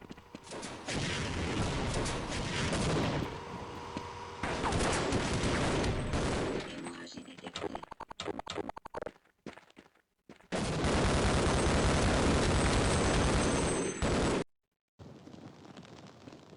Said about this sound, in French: J'ai tiré 400 balles dans la poitrine.